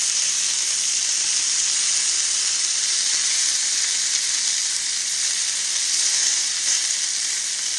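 Beef sizzles and fries steadily in a hot pan as the meat is turned, a constant close, bright crackling hiss with no talk over it.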